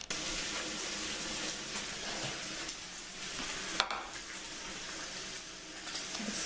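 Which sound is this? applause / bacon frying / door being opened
bacon frying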